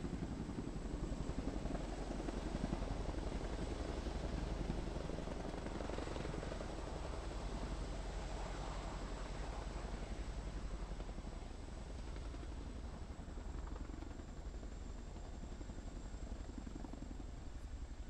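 A military helicopter hovering during a Japanese live-fire exercise at Mount Fuji while carrying a sling load, its rotor thudding in a steady rapid pulse over a constant engine whine, sustained and fairly distant, with no voices.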